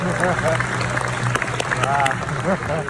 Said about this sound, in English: So give yourself some applause first.